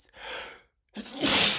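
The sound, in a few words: repeated sneezing from black pepper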